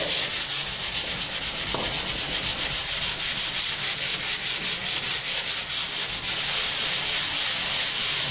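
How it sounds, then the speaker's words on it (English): A paddle sander rubs steadily over a drywall patch around a thermostat, producing a continuous close, loud scraping hiss with a faint rhythmic pulse from the back-and-forth strokes, and no talking. "on this paddle sander, what I do is when I put it on, I usually fold the edges over"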